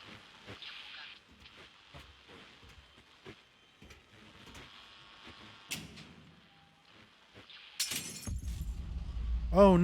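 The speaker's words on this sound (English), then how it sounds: "Oh no, someone dropped a glass bottle." A sudden bright shatter of a glass bottle breaking in the horror video game Layers of Fear 2. It comes after a quiet, cluttered stretch and is followed by a louder rumbling swell that rises toward the end.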